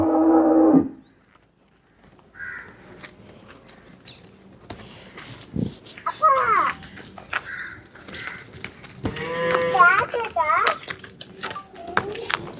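Dairy cattle moo on a farm, with several drawn-out lowing calls from close by, mixed with a voice and other people talking nearby.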